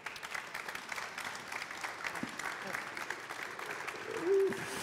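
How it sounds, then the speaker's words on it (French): Applause from an audience at a Paris Air Lab talk during the Paris Air Show at Le Bourget, a moderately faint, even patter of clapping heard from a distance throughout, with a brief tonal sound near the end. "On peut les applaudir."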